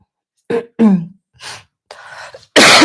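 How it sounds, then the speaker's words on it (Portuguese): A few short, harsh throat bursts, like coughs or throat clearing, spaced apart, followed by a loud breathy burst at the end. "eu ainda estou tossindo um pouquinho"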